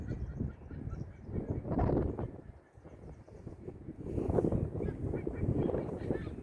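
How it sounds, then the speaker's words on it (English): A white-bellied sea eagle calls outdoors with a series of honking, goose-like cries over steady wind buffeting the microphone, fading briefly midway and then returning louder. "White-bellied sea eagle. Here he comes back."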